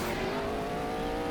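Car engine in the Roblox game Mad City, fitted with a level-3 engine upgrade, droning steadily at high revs throughout a short stretch, loud and close with no talk over it.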